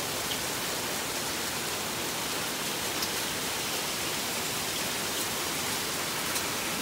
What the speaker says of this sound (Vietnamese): sao mưa lớn quá vậy nè? Mưa ngập tràn đường phố.